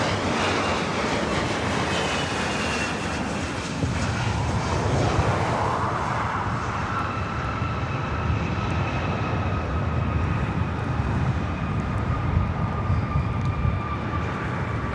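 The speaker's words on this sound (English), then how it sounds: "we'd see Iberia landing here on the north side." An Iberia airliner landing on the north side at LAX, a broad continuous jet roar with a slowly shifting engine whine, steady and fairly loud throughout.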